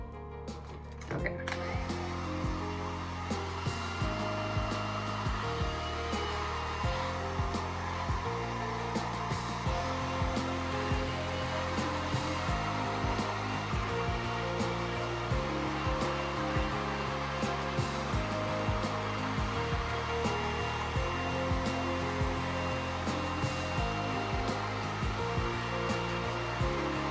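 A hair dryer blows steadily and close up for the whole stretch, a constant whooshing roar with a low motor hum and no talking.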